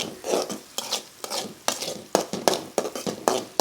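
Repeated scraping stirs of a spatula through small shallots, curry leaves and salt sautéing in a pan for a prawn dish, with a steady sizzle and rhythmic metal clinks, close and fairly loud, no voices.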